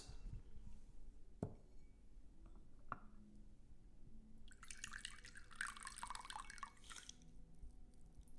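White tea infusion poured out into a vessel, a trickling, splashing stream rising for about two seconds in the latter half, preceded by a couple of soft drips and taps in a quiet room.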